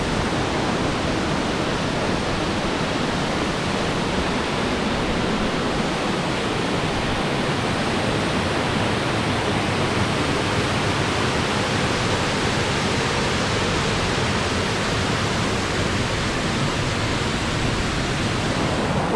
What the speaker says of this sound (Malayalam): നല്ല ഹൈറ്റിൽ നിന്ന് വെള്ളം താഴേക്ക് വീഴുന്നുണ്ട് കേട്ടോ